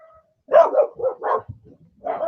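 A dog barks in a quick run of several sharp, close barks, loud and clear with short gaps and no talking over them.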